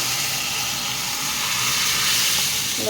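Lentils (dal) hit hot oil in a pan with chopped green chillies, giving a loud, steady sizzling hiss that holds evenly up close.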